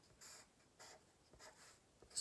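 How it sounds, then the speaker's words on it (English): Pen strokes on paper by hand while doodling bubble letters, a few short soft scratchy bursts separated by brief pauses, close and quiet with no talking. "I'm gonna write it"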